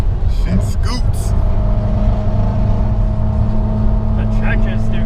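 Chevrolet Corvette C5 on winter tires accelerating and driving, a steady loud engine drone heard from inside the car throughout, with people talking over it.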